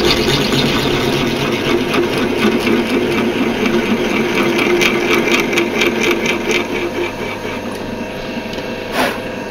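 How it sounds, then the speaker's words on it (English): A drill bores out a hole with a 9 drill bit, a steady, close whirring grind that runs continuously and eases off slightly near the end. "now I'm drilling it out with a 9"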